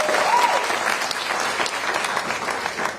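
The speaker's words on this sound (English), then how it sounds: "we can clap for the childcare providers" Steady applause from a crowd, dense clapping sustained throughout at fairly close range.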